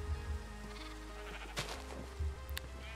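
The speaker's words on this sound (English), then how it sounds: "So now we've got 9 sheep." Sheep in a Minecraft modpack game bleat several times in quick succession, close and fairly loud, with synthetic game ambience and music tones underneath.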